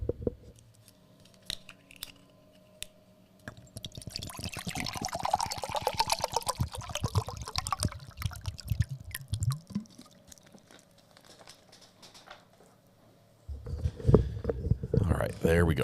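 Water is poured into a drinking glass at a desk during a live courtroom trial stream, a soft splashing trickle with drips that runs for several seconds between quiet clicks and handling noises.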